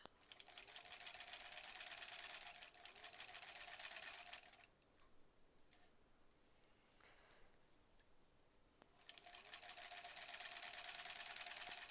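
Sewing machine stitching through a wool knit sweater, a steady rapid mechanical whir in two long bursts with a quiet pause between them.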